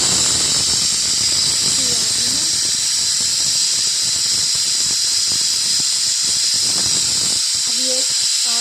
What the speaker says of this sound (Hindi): जब हमारे कुकर में सीटी आने वाली है,